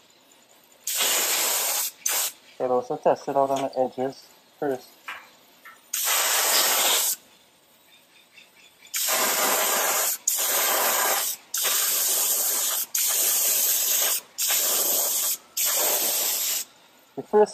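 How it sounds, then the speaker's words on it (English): Short bursts from a spray can hiss loudly onto a plastic piece being primed and painted for hydrographics, about a dozen separate sprays of one to two seconds each with brief pauses between, and someone speaks briefly early on. "Test spray."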